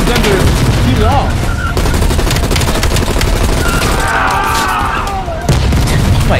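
Dense, continuous gunfire and booming blasts from Call of Duty: Black Ops Cold War on PS5, loud and layered with rapid bursts throughout, while excited voices talk over the action.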